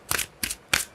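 Tarot cards being shuffled by hand in three quick, crisp riffling bursts, close and clear with short pauses between them and no talking.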